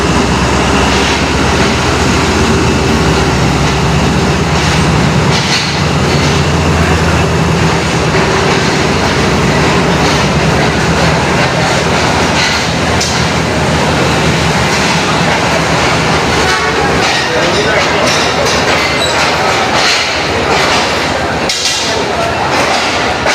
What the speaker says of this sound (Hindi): दोस्तों प्लेटफॉर्म नंबर 1 पर 18 डाउन मिल्लत एक्सप्रेस पहुंच चुकी है